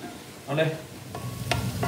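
Spring onions soften in a frying pan with a low, steady sizzle. A utensil stirs them in several short scraping strokes.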